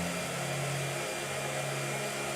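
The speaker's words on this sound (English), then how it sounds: "Blow dryer." A blow dryer runs continuously with a steady, dense broadband whoosh and a low motor hum, close and constant throughout with no talking.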